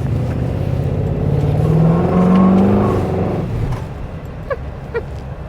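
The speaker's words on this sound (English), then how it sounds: "I spun the tires" A Chevrolet Suburban's engine revs hard as its tires spin, a loud, steady roar that swells in the middle and fades away, followed by a couple of faint sharp chirps near the end.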